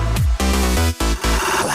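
Short excerpt of a house music DJ mix from a compilation album, with pumping full-band beats, heavy bass and dense synth layers, loud and continuous with brief rhythmic drops between bars.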